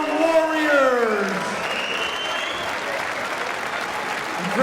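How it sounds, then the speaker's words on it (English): A large crowd applauds steadily at a Mosconi Cup pool match under a public-address voice that trails off, with clapping continuing evenly afterward. "How about a round of applause for both of these teams?"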